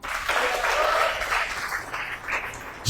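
An audience at a Christmas party claps steadily for almost three seconds, a dense patter of many hands that swells early and gradually thins toward the end.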